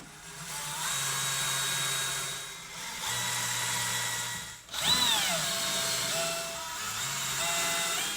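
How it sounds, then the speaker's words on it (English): Power drill driving screws around the perimeter of a drum, several bursts of whirring motor with short pauses between them, one run ending in a winding-down whine, heard close and alone. "So you can see here that these screws will be going in. You'll use your power drill and"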